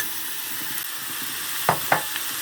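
Meat and carrot frying in a pot for homemade broth, a constant close sizzle with two sharp stirring scrapes near the end.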